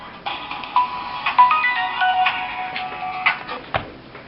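A Samsung Galaxy S II Skyrocket smartphone ringtone for an incoming call plays alone: a bright, melodic electronic tune with repeating tones for about three seconds, ending with a soft click.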